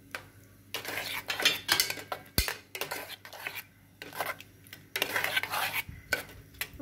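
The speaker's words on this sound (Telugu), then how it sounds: "ఇప్పుడు ఇలాచి పౌడర్ కూడా యాడ్ చేసుకోవాలి" Cardamom powder being added to milk rice in a cooker, with repeated close clinks and scrapes of a spoon against the metal pot and brief stirring bursts.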